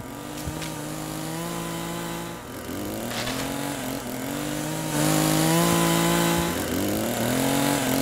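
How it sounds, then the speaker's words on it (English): A chainsaw in the game Escape The Backrooms drones loudly and steadily, its engine pitch dipping and rising with revs over several seconds, close and dominant. "Oh, are you supposed to chainsaw this down?"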